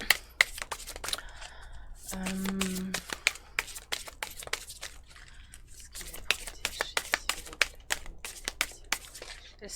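Playing or tarot-style cards shuffled repeatedly during a spiritual card reading, giving quick crisp riffling bursts in a steady uneven rhythm, close and moderately loud, with a soft hum briefly underneath.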